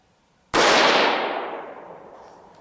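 A single sharp rifle shot from a Tikka T1X in 17 HMR cracks out loud and close, followed by a long echoing decay that fades over two seconds.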